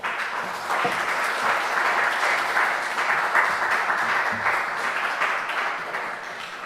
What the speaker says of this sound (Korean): 우리 나오실 때에 큰 박수로 환영하겠습니다.